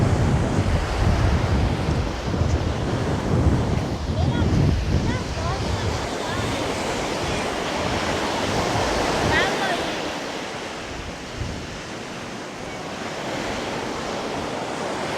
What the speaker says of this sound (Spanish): No es como tal la temporada, entonces el mar está revueltísimo